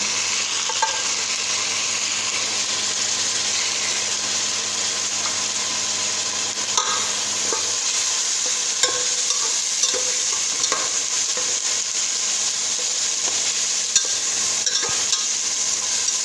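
Tomatoes and garlic added to fried onions sizzle and crackle loudly in a pan for an Ethiopian chicken and potato stew, with a steady frying hiss and occasional scrapes and knocks from stirring, close up and without talk.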